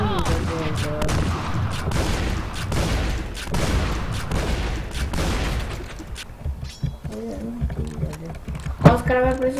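Gunfire in a first-person shooter game, with a player firing a pistol down a straight lane: dense, continuous rattling shots and booms that ease into sparser bursts, with players talking over the game audio throughout.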